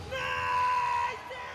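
A player at a Counter-Strike esports event in London lets out a loud, sustained yelling battle cry lasting about a second, rising to a peak and then trailing off amid the background noise of the arena.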